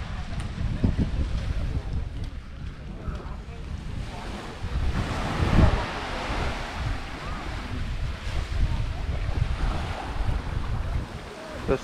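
Waves wash onto the sand at Maya Bay, a steady surf roar with gusty wind buffeting the microphone and faint boat noise in the distance.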